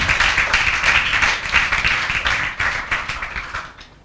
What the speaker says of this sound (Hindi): तो सुदीक्षा दीदी के लिए तालियां होनी चाहिए